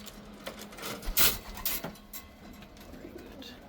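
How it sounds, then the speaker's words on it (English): A racing pigeon coos softly near a loft on return from a race, a low faint murmur under light rustling and a sharp flapping burst in the middle. "there's another pigeon out here"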